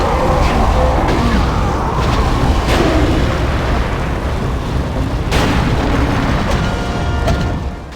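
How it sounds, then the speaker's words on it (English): Thermite explosions go off in the video game Kameo: Elements of Power, a dense rumbling barrage with several sharp booming bursts and crackling debris over continuous loud roar. "get things done quickly with some real Thermite explosion action"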